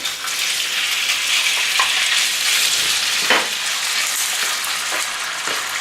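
Steady, dense sizzling of meat frying in preheated oil in a flat-bottom pan, loud and close, with a few soft clicks and stirring scrapes mixed in.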